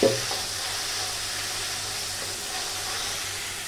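Water splashed into spiced masala with red chilli powder frying in a pan, giving a brief hit at the start and then a steady, moderately loud sizzling hiss that carries on alone.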